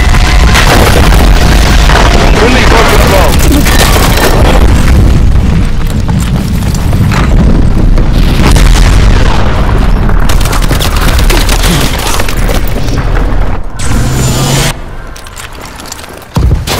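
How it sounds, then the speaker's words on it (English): Missile strikes in the shooter Call of Duty: Advanced Warfare, a dense, loud barrage of booming explosions and crackling bursts rolling together nearly without letup, easing off near the end. "Friendly missile strikes inbound."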